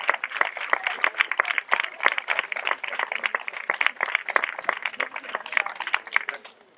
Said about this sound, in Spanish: pido un aplauso para Esther por dejarnos estos regalos aquí